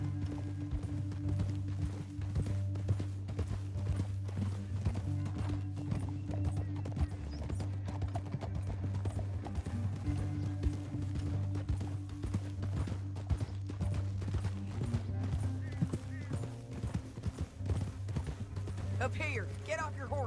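Horse hooves clip-clop in a PS4 video game, with a steady rhythm of hoofbeats and a whinny, set under a constant low drone and characters talking over it.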